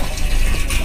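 Water gushes steadily into drums aboard a boat, a continuous full-bodied pour that stays loud and even throughout the short stretch with no voices.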